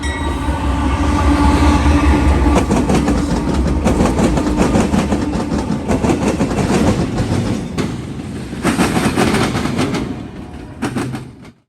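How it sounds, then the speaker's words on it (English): A northbound Norfolk Southern intermodal freight train hauled by two GE AC44C6M rebuilt locomotives rolls past close and loud, with steady rumbling and rhythmic clickety-clack of wheels on rail that trails off at the end. "northbound intermodal 267 on his daily trip out of Columbus heading back to Chicago, Illinois, with two NS AC-44 C6M GE rebuilds hauling this train"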